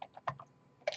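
Quick, faint keystrokes on a computer keyboard while typing into a Python shell, a few light taps followed by a slightly heavier final press, close and without talk.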